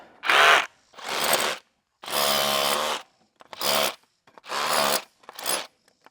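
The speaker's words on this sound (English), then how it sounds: "I need to take the hammer drill down on the backside and bust out a lot of that dried out mortar" A hammer drill busting out dried mortar on a retaining wall runs in six loud, separate bursts of rattling, pounding noise, each lasting about a second, with short silent pauses between them.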